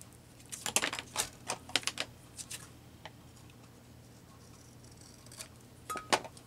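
Scissors snip paper for a junk journal collage, giving scattered sharp little cuts and clicks close by. A quiet stretch sits between the two clusters of snips.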